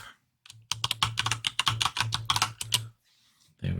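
Rapid typing on a computer keyboard, a quick burst of about a dozen close, crisp key clicks lasting a few seconds, with short pauses before and after.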